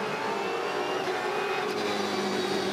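V8 Supercars racing at Albert Park in 2014, a loud, steady engine roar from race cars with no clear gaps or pass-bys, sustained throughout at close range.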